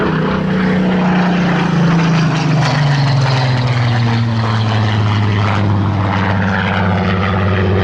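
Piston-engined propeller fighters such as a Spitfire and Sea Hurricane fly past at an airshow, their steady droning roar loud and continuous, with engine pitch sliding slowly downward as they pass.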